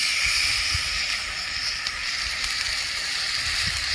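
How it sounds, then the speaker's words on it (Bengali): Mango pieces stirred in hot oil give a steady loud hiss and sizzle, with low bumps from stirring, and no talk. "ভালো করে আমগুলো তেলে নেড়ে নিচ্ছি।"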